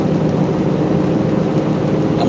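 Steady loud road and engine roar from inside a vehicle on a highway while passing a semi-truck, a continuous broadband rumble with no talking.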